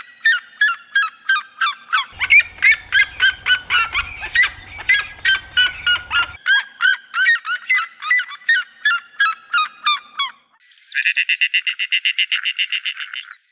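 A red-legged seriema calls in a loud, rapid series of yelping notes that rise in pace, then a brief pause and a faster chattering run, heard alone in open countryside.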